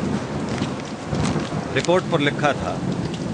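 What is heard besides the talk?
rain falling outside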